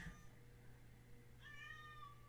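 A cat meows outside a door indoors, two faint drawn-out meows, the second one longer and rising, heard alone against a low steady room hum.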